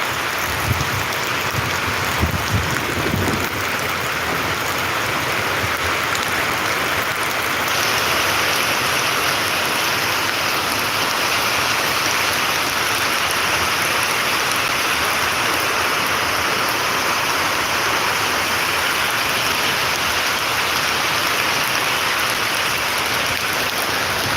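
Heavy unseasonal rain with stormy wind pours steadily over farmland in Golegaon, Sillod taluka, Chhatrapati Sambhajinagar, making a dense, continuous hiss with no voices over it for the whole stretch.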